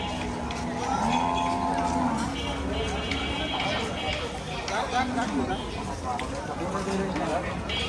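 Cattle at a crowded Postogola cattle market, with a few drawn-out moos rising over a busy background of people talking and general market bustle.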